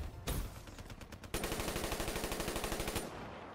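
A machine gun fires in Black Ops 3: a few separate shots, then a fast, steady burst of rapid rounds, close and loud, that cuts off abruptly.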